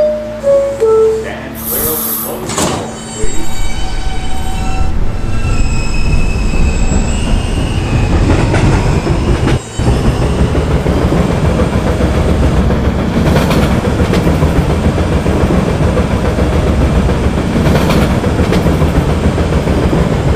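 An R subway train on the N line rumbles along the tracks at night, a loud continuous roar of wheels and rail noise with squealing and clattering, after a brief tonal announcement chime at the start.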